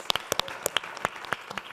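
Audience applause for bouzouki players at a traditional music evening in Cyprus, a short burst of fairly loud, sharp claps close by with no voices.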